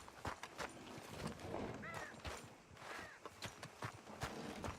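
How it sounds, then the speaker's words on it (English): Horse hooves clop in an uneven walking rhythm with a couple of short whinnies in Red Dead Redemption 2, fairly faint and mixed with game ambience and a voice talking. "Hearing a horse that I don't think is mine."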